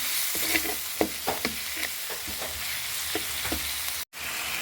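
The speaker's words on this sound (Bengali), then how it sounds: "মশলাটা আমি কষায় নেব" Spice paste made with ground onion and garlic frying and being stirred in a pan for a fish curry, with a steady sizzle and repeated scraping strokes of the spoon, close and continuous, with no talk.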